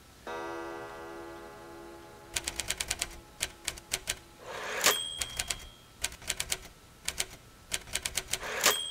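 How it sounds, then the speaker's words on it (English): A manual typewriter clatters in quick bursts of key strikes, with carriage bell dings and a return, following a brief sustained tonal hum at the start. "So, was she typing the lyrics?"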